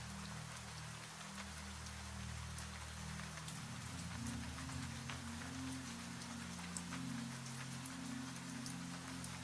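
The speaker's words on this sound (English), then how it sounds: "For several moments, you hear rain without knowing where it is." Steady rain falls on a surface, a dense even hiss with scattered drops over a low droning hum, soft and continuous with no voices.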